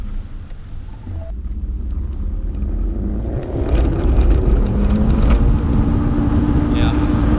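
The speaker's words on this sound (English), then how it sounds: "The motor's fighting itself when I hit full throttle." A homemade electric dirt bike motor strains at full throttle, giving a loud, rough rumble with a shimmying, fighting tone that builds and holds steady over several seconds.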